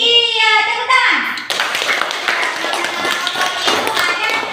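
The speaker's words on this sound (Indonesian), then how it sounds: "Iya, tepuk tangan." Children clap their hands together in a classroom, a close, busy patter of claps that follows a brief spoken phrase and then carries on steadily to the end.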